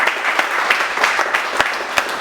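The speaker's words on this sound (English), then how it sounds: "First Friday crowd, make some noise." A crowd at a Jackie Robinson Fortitude Award presentation applauds loudly, a dense, steady wash of clapping with a few sharper individual claps and some cheering.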